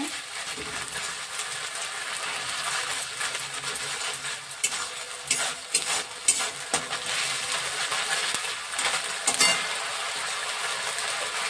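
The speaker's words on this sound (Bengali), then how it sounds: "একটু জল দিয়ে দিলাম। ভালো করে কষে নেব।" Ginger spice paste fries in a pan with a splash of water for a dhoka curry, giving a continuous close sizzle broken by louder bursts and scraping stirs. No one speaks.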